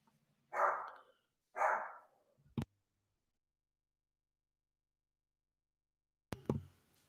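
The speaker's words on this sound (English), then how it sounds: "Ignore the dogs, of course." Dogs barking indoors: two separate loud barks close by, a brief knock-like thud, then a long stretch of silence before another bark and rustle at the end.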